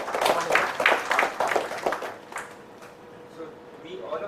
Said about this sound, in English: Clap for yourself that you've reached this stage out of so many participants.